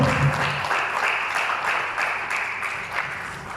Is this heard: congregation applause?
yes